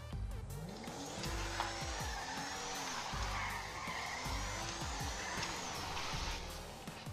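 Volkswagen Passat 2016 with full turbo driving in GTA 5, engine revving up and down in repeated gear-shift sweeps with tire squeal and skidding, loud and steady throughout, no talk.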